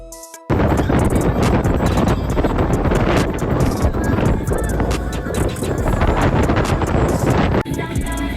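Strong wind buffets the microphone in loud, rumbling gusts at a beach in Jamaica, a continuous roaring blast outdoors that drops briefly near the end.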